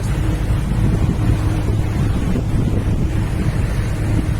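A wave catches up with a motor yacht on the water along Wały Chrobrego in Szczecin, a loud, continuous rush of water and heavy wind buffeting the microphone.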